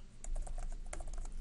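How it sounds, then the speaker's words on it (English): Rapid, uneven clicking of keys on a computer keyboard during data entry in quality management software, close and fairly loud, with no talking. "I'm not gonna bore you with my typing"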